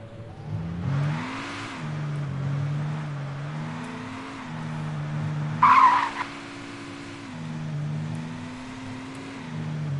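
A car in Alan Wake Remastered drives with a steady droning engine that shifts pitch, broken by two tire skids, the second a loud squealing screech midway through, with no voices.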